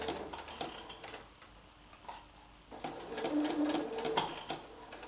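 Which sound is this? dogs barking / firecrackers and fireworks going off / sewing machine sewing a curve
sewing machine sewing a curve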